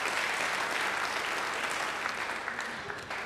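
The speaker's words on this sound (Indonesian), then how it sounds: "Beri tepuk tangan bagi dia." Church congregation applauds at a worship service in a sustained, dense burst of clapping that fills the space, easing off slightly toward the end, with no voices over it.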